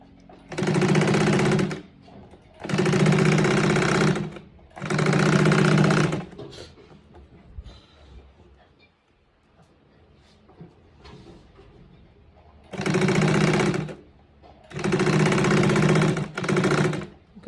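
A sewing machine stitches an elastic waistband onto joggers in loud, steady whirring bursts: three runs of about a second each, a quiet pause, then three more near the end.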